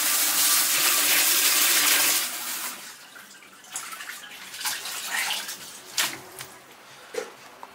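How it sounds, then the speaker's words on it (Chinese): Salted radish being rinsed under running water in a basket, a steady loud gush for about two seconds followed by quieter splashing and intermittent water bursts, with no talking. "我们现在给它洗一下，要把那个盐味彻底给它洗掉"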